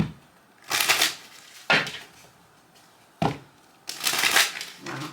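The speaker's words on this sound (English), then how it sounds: "Let me do a quick shuffle" Tarot cards riffle and snap together in four brisk bursts separated by short pauses, close and crisp with no talking.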